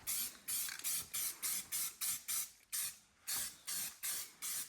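Primer being spray painted onto a Silverado from an aerosol can, heard as about a dozen short, loud hissing bursts in a steady rhythm, each lasting a fraction of a second with brief gaps between.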